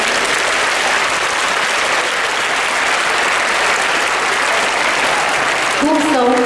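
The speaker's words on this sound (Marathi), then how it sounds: "अनावरण झाल्यानंतर प्रेक्षक वर्गातून मोठ्या टाळ्यांचा कडकडाट झाला पाहिजे." Loud, dense applause from an audience at a Goa Liberation Day event, following the unveiling of a small wall poster about Goan freedom fighters and leaders; steady clapping fills the whole stretch, with a voice starting to speak at the very end.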